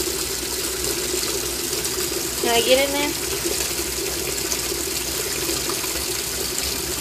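Water runs steadily into a washing machine filling for a laundry load, a constant close rushing flow while a person speaks briefly over it partway through.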